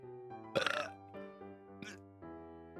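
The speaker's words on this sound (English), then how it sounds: "Burps." A short burp comes through over a steady synthesized music track, followed a moment later by a smaller second belch, both fairly quiet in the mix.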